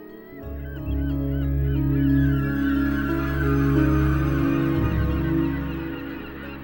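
Gannets calling at a huge breeding colony on the sea stacks of St Kilda, a dense, continuous chorus of harsh honking cries that swells and fades slightly, loud and close.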